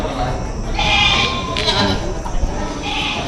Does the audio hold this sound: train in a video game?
no